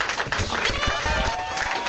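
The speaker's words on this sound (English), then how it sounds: "Give him a round of applause." Brief applause from an audience honoring a Hall of Famer at a Pro Football Hall of Fame event in Canton, Ohio, a short burst of clapping at moderate level with a voice mixed in.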